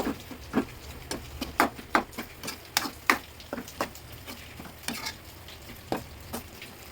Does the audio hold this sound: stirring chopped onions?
yes